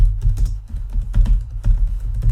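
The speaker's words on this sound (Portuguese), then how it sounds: "Eu já posso digitar, tá, à vontade" Typing on a computer keyboard, close and loud, with quick irregular key clicks in short bursts.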